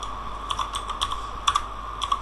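Soft, steady typing on a computer keyboard, irregular light key taps over a constant low hum, close and fairly quiet with no voices.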